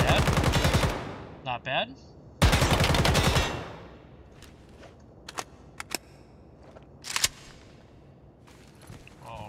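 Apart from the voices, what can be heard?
WZ-88 AK-style rifle gunfire in Ground Branch video game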